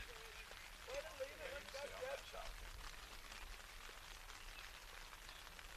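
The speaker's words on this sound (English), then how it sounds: "The raindrops hitting our tent." Rain patters on a tent at an outdoor high school baseball game, a steady dense hiss of drops throughout, with faint commentary voices underneath.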